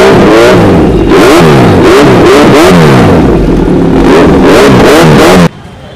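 A superbike fitted with an SC Project exhaust revs hard and loud in repeated rising blasts with a raspy exhaust bark, then cuts off sharply at the end.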